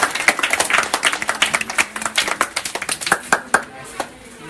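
An audience at a club event for distributing school supplies to students claps in a dense, lively burst that thins into scattered claps and fades out.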